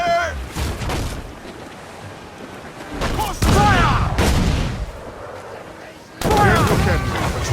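Enemy ship cannon fire in Assassin's Creed Black Flag comes as several loud booming blasts at irregular intervals amid the sounds of the sea battle, with voices shouting between the shots.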